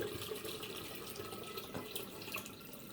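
Rainwater pours steadily into a hydroponic gardening container, a continuous close splashing trickle with no pauses, loud and alone.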